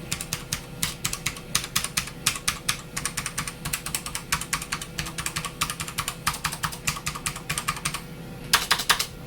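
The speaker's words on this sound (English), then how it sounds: "The other thing I heard too when I was typing is some inconsistency in the sound from keycap to" Typing on an APT Hall Effect mechanical keyboard, with dense bursts of crisp, close key clicks in quick irregular runs. A brief pause comes near the end before a final flurry of keystrokes, all heard alone without talk.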